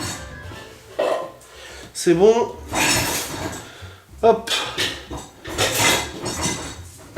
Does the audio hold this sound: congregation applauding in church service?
no